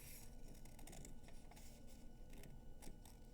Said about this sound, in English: So taking my scissors, I'm going to cut,